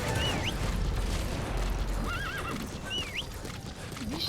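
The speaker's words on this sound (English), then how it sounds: "And then call your horse" A horse in Metal Gear Solid V: The Phantom Pain whinnies several times over a steady clip-clop of hooves, with a constant low rumble beneath and no talk.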